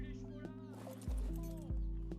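Horse hooves clip-clopping in a video game around loose horses and an escaping sheep, a few sharp, close, heavy hoof strikes with a brief whinny-like tone, over a steady background hum.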